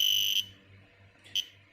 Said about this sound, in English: the buzzer is going to give this 50 to 100 beat sound